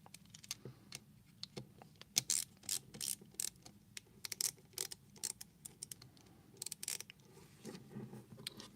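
Screwdriver cinching down a screw on a Leatherman Surge multitool, faint close clicks, ticks and small metallic scrapes in irregular bursts, no voices.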